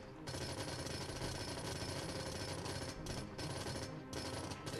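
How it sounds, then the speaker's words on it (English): Demolition in SimCity goes off as a loud, continuous rapid rattle like machine-gun fire, with a few brief dips in the clatter. "I'm going to completely just demolish everything from here. Oh my god, it sounds like a machine gun."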